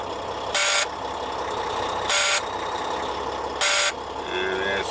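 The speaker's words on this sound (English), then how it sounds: "he has alarms because the air pressure is low" Low air pressure warning alarm in a heavy-duty truck, three loud steady electronic beeps about 1.5 seconds apart over a running engine, with faint voices in the background.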